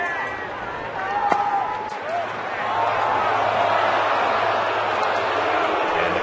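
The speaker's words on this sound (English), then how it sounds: "And the crowd didn't like that call." A home crowd at a San Francisco baseball game against San Diego reacts to an umpire's pitch call, a rising murmur and boo swelling to a sustained roar, with a broadcaster talking over it.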